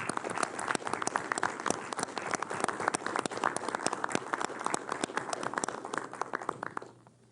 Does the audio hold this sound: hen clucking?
no